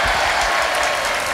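Brief burst of audience applause in a television variety show studio, steady dense clapping with no voices.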